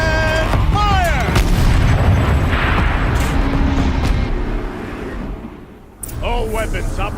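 Turret weapons fire in heavy booming bursts over a dense, rumbling battle din, with voices talking throughout and the noise dropping briefly near the end before resuming.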